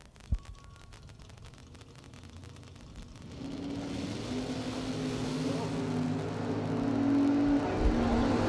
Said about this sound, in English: Both drivers away with green light starts.